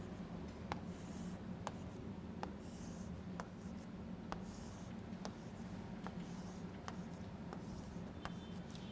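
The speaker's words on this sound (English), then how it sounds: "let me draw the field lines in between them" A marker or chalk draws field lines on a board in a physics lesson, giving faint, regular ticks and strokes roughly every second over steady low room hum, with no talking.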